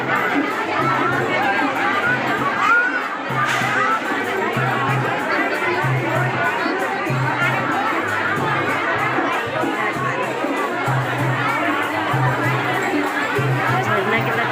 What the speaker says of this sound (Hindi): आप देख सकते हैं कितनी भीड़ बाहर हो रखी